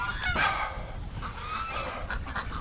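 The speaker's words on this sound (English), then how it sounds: "All right, ducks, I'm gonna give you water." Ducks at a lakeside in winter, a busy mix of quacks and fowl squawks over constant outdoor background noise, with a few sharper calls standing out near the start.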